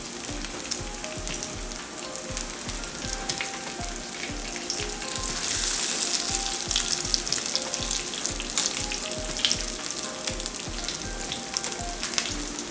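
Cornbread dressing bites sizzle and crackle steadily in a hot frying pan, a continuous bright frying hiss with small pops, fairly close.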